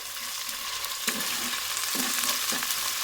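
Onions and green chilies frying in oil, a continuous dense sizzle up close with a few soft stirring scrapes partway through.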